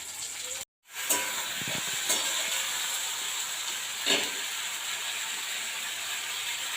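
Sour yogurt goes into a hot pan of spices, crushed ginger and chopped tomato for a curry, raising a steady hissing sizzle after a brief silent gap. A few soft clinks of utensils sound along the way, and no one speaks.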